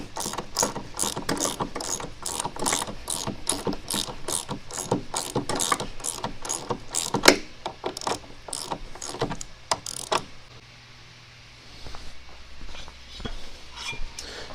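Rapid ratchet clicking from a wrench tightening a bolt on a 1972 Polaris Colt 340 SS snowmobile, a steady run of close, loud clicks for about ten seconds, then a few scattered softer clicks and handling noise.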